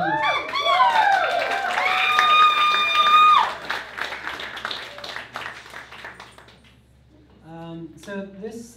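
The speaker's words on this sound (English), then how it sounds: "let's give a round of applause to ladies" A live audience claps and cheers in a small venue as cello players join the band on stage. Loud applause is mixed with musical tones for the first few seconds, then fades away to scattered claps.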